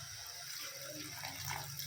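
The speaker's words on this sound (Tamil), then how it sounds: "இப்போது நம்ம வந்து ஒரு சொம்பு தண்ணி இதில் சேர்த்திக்கலாம்." Water poured from a vessel into a pot of duck curry, a steady close splashing pour that runs continuously from start to finish with no one talking.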